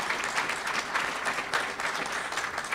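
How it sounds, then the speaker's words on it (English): Audience applause fills a hall at a university STEM conference, a steady, dense wash of many hands clapping that holds at even strength from start to finish with no voices standing out. "We could save the applause maybe for the end"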